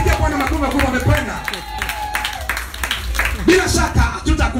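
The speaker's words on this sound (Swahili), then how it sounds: "Pigia Bwana makofi makubwa, wamekwenda" A church congregation at a New Year's Eve crossover service claps loudly and irregularly, a close, busy patter of many hands mixed with crowd noise as a preacher's voice carries over it.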